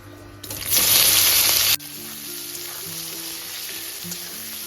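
Chopped onions, five large ones, drop into hot oil with fried whole garam masala spices, setting off a loud burst of sizzling that quickly settles into a steady, softer frying hiss, with faint tones running underneath.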